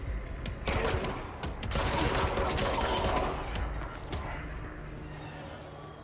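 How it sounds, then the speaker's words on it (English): Rapid bursts of gunfire from the video game Control crackle through a dense, loud firefight, with volleys overlapping and dying down toward the end. "Oh, more gunshots."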